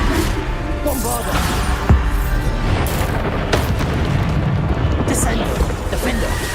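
Booming spell blasts from the Hogwarts Legacy video game, a dense continuous rumble with one sharper burst near two seconds, loud and busy throughout, mixed with other game effects.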